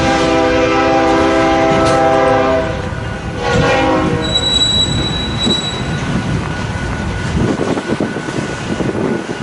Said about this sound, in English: I think we may have a BNSF train coming.